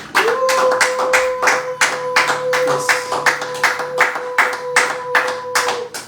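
A church congregation claps in acclamation at a Sunday French-language service, a steady fast run of hand claps from many people, close and lively, over a sustained organ-like tone with no speech.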